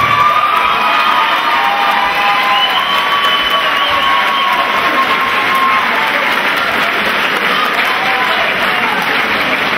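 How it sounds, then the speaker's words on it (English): A boxing crowd cheers and applauds for both fighters after the bout, a loud, sustained roar of clapping, whoops and shouts that fills the whole stretch without a break. "let's have a massive round of applause for both fighters"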